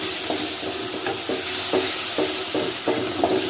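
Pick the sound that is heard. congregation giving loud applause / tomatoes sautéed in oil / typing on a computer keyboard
tomatoes sautéed in oil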